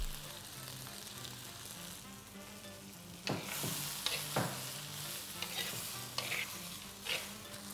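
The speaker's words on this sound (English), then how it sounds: "Now let's add peas, half a kg of shelled peas." Half a kilo of shelled peas goes into frying cauliflower and gets stirred, with a steady oily sizzle throughout and clattering scrapes of the spoon against the pan in the second half.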